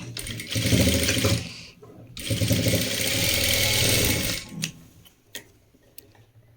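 A sewing machine top-stitching a school uniform runs in two steady whirring bursts of rapid needle ticking, pausing briefly between them, then stops and leaves a few faint clicks of handling.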